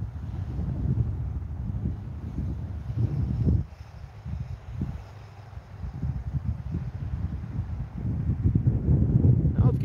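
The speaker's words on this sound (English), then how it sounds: "Now it's getting a little windy if you can hear it." Gusts of wind buffet the microphone in low, rumbling surges on frozen Lake Minnetonka on a sub-zero New Year's Eve night, easing briefly midway before building strongly again.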